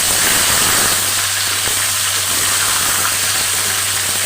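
Fish frying in a hot pan of oil, a steady loud dense hiss and sizzle that holds unbroken throughout, with a low constant hum underneath.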